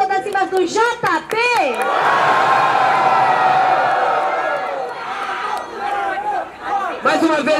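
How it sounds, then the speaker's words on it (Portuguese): Loud crowd roar and shouting at a trap-edition rap battle grand final, swelling for several seconds after the host calls for noise, with the host's voice before and after. "Diferentemente, muito barulho pra quem gostou das rimas do JP!"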